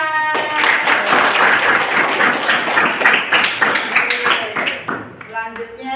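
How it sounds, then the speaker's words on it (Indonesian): A class of eighth-grade students claps together in a school classroom, a dense burst of hand claps that thins into scattered, separate claps near the end. "Oke, tepuk tangan."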